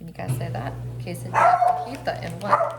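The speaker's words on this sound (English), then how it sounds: "Sorry about my dog." A pet dog barks and yips intermittently in a home kitchen during a quesadilla-cooking session, the short barks loud and close, mixed in with a person talking and a steady low hum running underneath.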